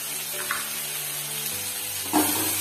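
Cumin and coriander frying in hot oil while fish-roe fritters are being made, a steady, fairly loud sizzle with faint stirring, the hiss swelling briefly toward the end.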